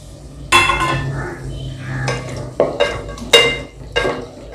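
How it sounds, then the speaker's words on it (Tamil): Tomatoes and onions being sautéed in a pan for a tomato curry, with sharp clinks and scrapes of a spoon stirring against the metal pan at irregular intervals over a soft background sizzle. "தக்காளியும் வெங்காயம் நல்லா ஒன்று சேர்ந்து வர்ற வரைக்கும் இதை நம்ம வதக்கி விடணும்"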